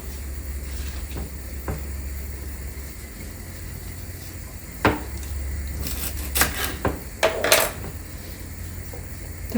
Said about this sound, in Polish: A tak kroję, botwinkę kroję w centymetrowe paseczki